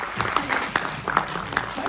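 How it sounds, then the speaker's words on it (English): An audience claps continuously, a dense wash of applause with individual sharp claps poking through, fairly close and steady for the whole stretch. "Give her a big round of applause."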